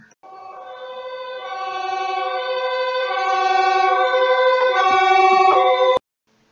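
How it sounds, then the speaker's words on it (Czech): A loud fire engine siren blares in a steady, harmonically rich wail that builds slightly in volume, then stops abruptly. "Takto houkají požárníci."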